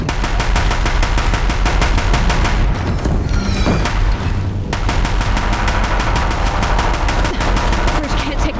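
Sustained rapid gunfire at a bridge in Horizon Zero Dawn, loud and close, with rhythmic automatic bursts running nearly throughout, a brief lull with rumbling and a boom midway, then firing resumes.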